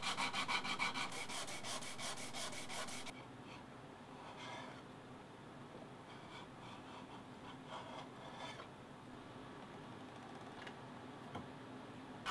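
Hand tools rubbing and rasping along a wooden ukulele bass neck, a rapid rhythmic scraping burst at first, then quieter intermittent strokes and light ticks, fairly close with no talk.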